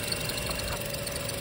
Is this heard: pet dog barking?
no